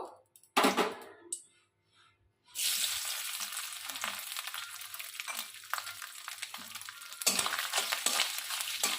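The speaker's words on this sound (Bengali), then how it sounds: "এখন এই তেলের মধ্যে আমি নারকেলগুলো দিয়ে দেব" Coconut pieces drop into hot mustard oil in a kadai, a short burst then quiet, followed by a loud sustained sizzle with stirring scrapes and a renewed surge near the end, close up, no speech.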